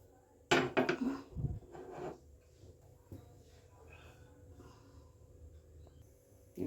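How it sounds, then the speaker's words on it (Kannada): A pressure cooker holding lentils for pongal is set down and its metal lid closed, giving a short cluster of close clanks and scrapes, then a faint, quiet background. "ಕುಕ್ಕರ್ ಇಟ್ಟಿದ್ದೀನಿ, ಮುಚ್ಚಳ ಮುಚ್ಚಿದ್ದೀನಿ."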